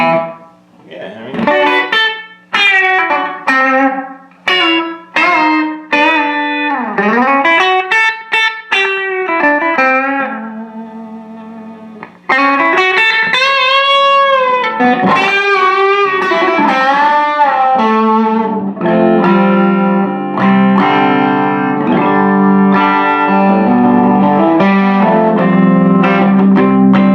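Distorted electric guitar played through a Marshall JTM30 tube amp fitted with 6L6 tubes: loud, saturated single-note runs and bends in the first half, then sustained, ringing chords with a thick, driven tone. No one talks.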